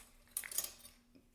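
A metal utensil scrapes and clinks in a small bowl while oil is stirred into a homemade mixture, a short, close burst of scraping and tapping that fades quickly, with no voice.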